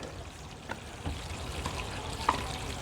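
Water rinses steadily through an RV black tank, a constant broadband wash with a few small knocks and splashes standing out.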